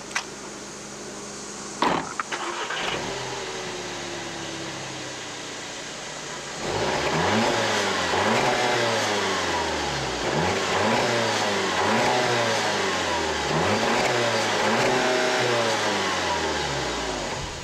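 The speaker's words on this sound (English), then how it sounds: "let's get out on the road and see how it all performs out there." 2017 Volkswagen Golf Alltrack engine on the road, a brief interior thud, then repeated revving climbs through the gears, rising and falling in pitch, steady and fairly loud from inside the cabin.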